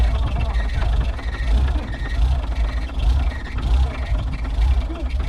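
A BMW E30 engine idles with a low, rumbling throb, fairly close and steady, with faint background noise.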